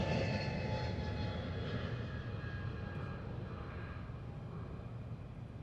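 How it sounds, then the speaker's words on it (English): Embraer jet aircraft in a flight display at the 2018 Farnborough Airshow, a steady roaring engine noise held loud and constant throughout with a slight easing partway through, no voices. "This is their very latest aircraft."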